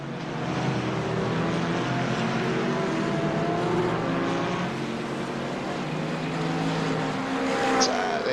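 GT4 race car engines, including a McLaren, in a sim racing game, droning steadily and close with rising and falling revs, a commentator talking over them throughout.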